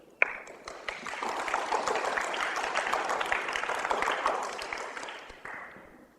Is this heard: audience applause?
yes